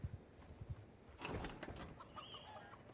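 Horses clip-clop faintly in Mount and Blade II: Bannerlord, scattered soft hoofbeats at low level with a brief burst of louder movement and a chicken-like cluck in the background.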